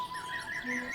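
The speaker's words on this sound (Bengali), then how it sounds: "ভোরের আলো ফুটছে, পাখিরা ডাকছে।" Birds chirp and call at dawn near a train station, several bright warbling notes overlapping through a soft, steady background hiss.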